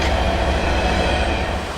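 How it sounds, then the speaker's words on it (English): Loud train rumbling past close by, with a dense roar of rail cars and wheels on track that stays heavy and steady, then eases slightly near the end. "Now that the train is gone, we can eliminate a little bit of the noise that kept us up all night."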